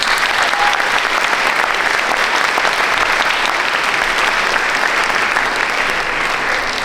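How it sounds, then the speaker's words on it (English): A school audience at an academic awards ceremony breaks into loud, dense applause that holds at full strength for the whole stretch, many hands clapping at once. "Another round of applause for Caden."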